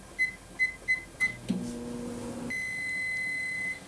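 A microwave oven heating about a cup of water gives four short beeps, then a few button clicks, a low running hum and a long steady tone.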